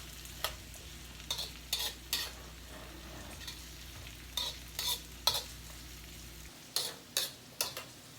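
A utensil stirs veggie shrimp fried rice in a pan, a series of crisp scraping strokes in uneven clusters over a faint sizzle, close up with no voices.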